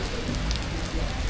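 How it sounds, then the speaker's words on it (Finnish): Heavy rain pours down in Bogotá, Colombia, a dense, loud, continuous hiss of drops striking surfaces close by, steady for the whole brief moment with no talking. "Sen verran raffi on tää sade"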